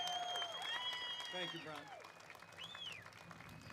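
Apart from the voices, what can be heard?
rally crowd applause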